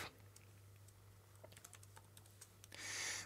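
Fingers tap at a computer keyboard in quick, light keystrokes, faint and close, over a low steady electrical hum, ending in a brief louder rustle.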